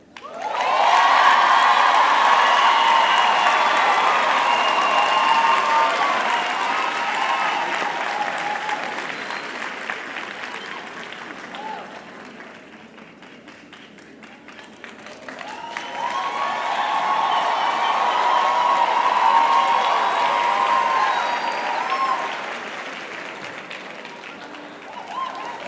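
A large crowd applauds loudly and steadily at a university graduation ceremony, the clapping dipping briefly in the middle before swelling again, with a few cheers mixed in.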